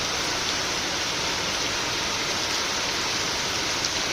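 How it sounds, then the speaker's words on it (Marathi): Steady, dense roar of heavy rain pouring down without a break, loud and continuous with no voices. "खूपच जोरात पाऊस आला आहे"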